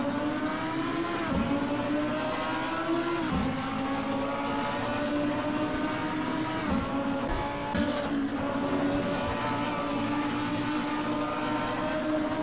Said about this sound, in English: Now this is the Lamborghini Huracan S Super Trofeo. Being drove poorly by me at Vallelunga.